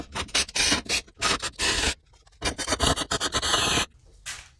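Rusty debris being scraped and rubbed out of a brake caliper mounting hole on a 2005-2012 Nissan Pathfinder, heard as bursts of close, gritty scratching strokes with short pauses between them.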